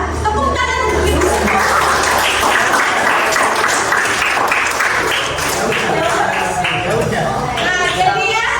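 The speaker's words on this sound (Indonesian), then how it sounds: "ya udah, tepuk tangan untuk Ibu." A classroom audience claps for a teacher during a coaching session, lively sustained applause mixed with voices talking and calling out throughout.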